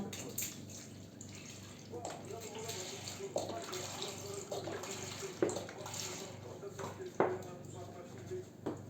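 One litre of milk is poured into a pot for a cake, a steady liquid rush running under a quiet voice talking throughout.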